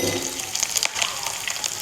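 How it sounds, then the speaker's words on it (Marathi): Asafoetida, curry leaves and green chillies sputter in hot oil for a tempering, a dense close sizzle with sharp crackling pops, heard alone. "दोन चमचे तेलात खमंग अशी फोडणी करायची आहे आपण हिंग कढीपत्ता त्यानंतर"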